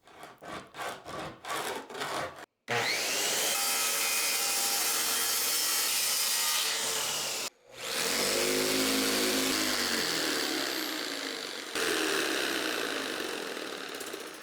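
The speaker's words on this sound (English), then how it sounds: "I am drilling pocket holes in the base of this piece" A power drill grinds pocket holes into a wooden table base in several quick bursts, then longer continuous runs of whirring and rasping, close up and loud.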